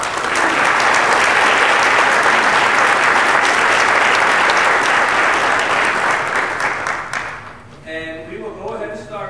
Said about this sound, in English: Can we give all four of our panelists a round of applause?